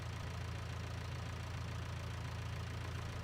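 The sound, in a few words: tractor engine idling in the video game Farming Simulator 19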